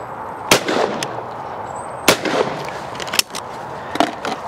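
Shotgun blasts at clay targets ring out outdoors, four sharp, loud reports spaced about a second or more apart over a steady background hiss.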